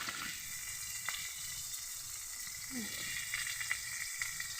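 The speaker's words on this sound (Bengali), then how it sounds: "এভাবে আমি মাছগুলো ভেজে নেব" Fish pieces frying in hot oil on a wood-fired clay stove make a faint, steady sizzle with occasional light taps, heard close but quiet.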